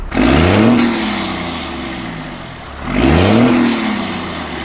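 A second-generation Cummins diesel pickup engine revs up twice, rising and falling with a deep, loud growl, heard close and alone.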